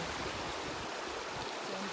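Steady rushing water fills the clip, a continuous broadband wash like a stream or outflow close by, with no pauses.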